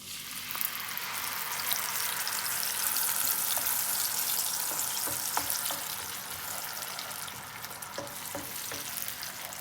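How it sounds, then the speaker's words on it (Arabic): Tomato sauce hits hot oil in a pan, giving a loud, steady broadband sizzle that rises then settles into a continuous frying hiss, with a few stirring clicks and no talk. "عندي هنايا الزيت ها هو كيسخن، غنزيد عليه هاد لاصوص ديال مطيشه"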